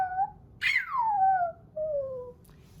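A person imitates a puppy with a voice, giving a high yelp followed by a long falling whine and a shorter second whine, close and alone.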